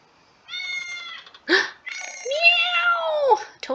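A cat meows several times in quick succession, close and clear, with drawn-out, wavering cries and a brief rustle in between.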